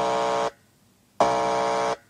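A harsh, flat electronic buzzer recorded from a radio sounds twice: a half-second blast, a short silence, then a longer burst of about three quarters of a second, loud and alone.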